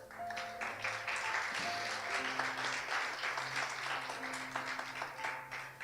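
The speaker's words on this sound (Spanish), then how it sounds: "denle un aplauso al Señor" A congregation applauding during a church service: sustained, dense applause from many hands, moderately distant, with soft sustained musical tones beneath.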